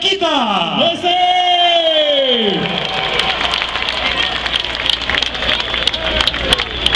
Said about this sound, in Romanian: Încă o dată aplauze, Baia Mare!